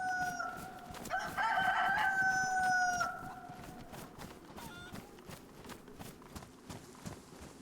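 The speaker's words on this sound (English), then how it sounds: "I hear chickens, by the way." In the video game DayZ, a chicken gives a loud, drawn-out crowing call over a steady outdoor background, with scattered clucks and footstep-like thuds continuing afterward.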